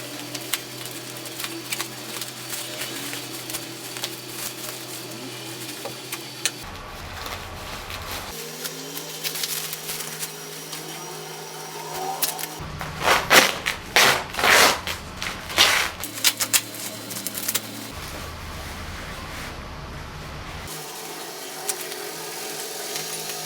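Nylon solar panel cleaning brush being unboxed, with crinkling and rustling of packaging plus scraping and tearing handling noises, busiest in the middle, close up with no talking.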